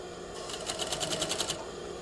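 A sewing machine stitching a set-in sleeve, running in a rapid burst of about a dozen even needle strokes that starts and stops within two seconds, close and clear.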